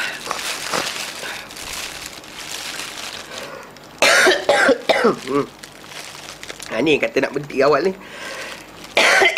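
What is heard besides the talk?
coughing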